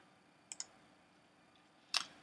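Computer mouse buttons clicked in a quiet room: a quick double click, a pause, then one sharper click near the end, all crisp, close and soft against faint background hiss.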